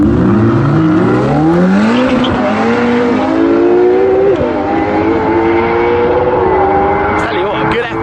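A LaFerrari hybrid hypercar and a Ferrari 488 Pista Spider convertible mid-engined V8 drag race, their engines roaring loudly as revs climb in repeated rising sweeps through the gear changes, close and sustained throughout.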